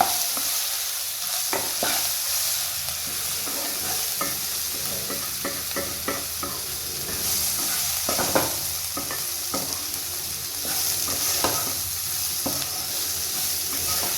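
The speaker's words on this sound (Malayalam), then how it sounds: "നല്ലപോലെ കരിയാതെ ഇളക്കാം." Ground coriander and chilli powder fries in hot oil in a pan and is stirred steadily, with a continuous sizzle broken by repeated scraping and spatula taps, close and clear with no talking.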